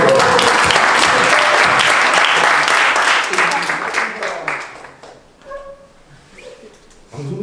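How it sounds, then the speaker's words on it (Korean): Loud, dense applause from a church congregation during a mission school session, sustained for several seconds before quickly dying away into a quieter room where a voice speaks. "우리 방송실을 위해서 박수합니다"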